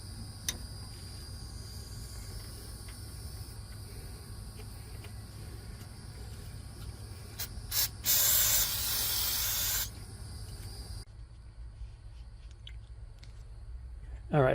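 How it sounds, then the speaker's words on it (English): Brake fluid sprays hard from an opened bleeder valve on a 1986 Nissan D21 pickup with new steel braided brake lines, a loud steady hiss lasting about two seconds over low background rumble. "When I turn the valve, the brake fluid should shoot out nice and"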